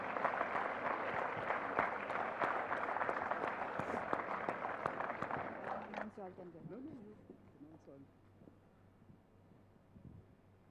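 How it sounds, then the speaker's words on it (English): Audience applause at an award announcement during a solar design competition finals, dense clapping that fades after several seconds into quieter room sound with talking. "A big round of applause for them, please,"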